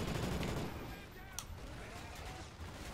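Light machine gun fire in Call of Duty Ghosts Extinction, a dense, continuous burst of rapid shots that dominates the first second, then thins into scattered fire and game noise.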